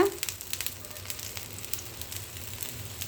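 A mushroom roti fries in a little sesame oil on a pan, giving a steady, quiet sizzle with soft crackling pops close up.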